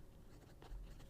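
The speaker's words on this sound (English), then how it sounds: "So we'll do a writing sample of this beautiful pen" A regular-size Sailor Pro Gear fountain pen scratches softly across paper in a brief, faint stroke with no voice over it.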